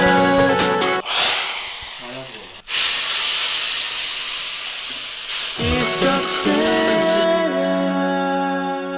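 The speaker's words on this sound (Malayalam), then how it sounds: "ഇനി കടുക് താളിച്ച് കഴിഞ്ഞാൽ നമുക്കിത് ടേസ്റ്റ് ചെയ്ത് നോക്കാം." Mustard seeds tempering in hot oil for a Kerala tamarind curry, a loud hissing, spitting sizzle that bursts in and continues steadily, with background music throughout.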